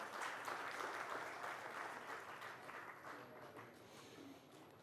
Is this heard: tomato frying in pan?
no